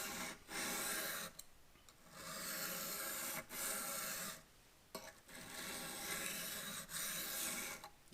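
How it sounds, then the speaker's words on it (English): A knife blade is drawn across an oiled wet stone in steady, repeated strokes, a close, quiet rasping scrape with short pauses between passes. "you'll be able to tell right away how dull that knife is and how well you've got the edge on it as you begin sharpening it"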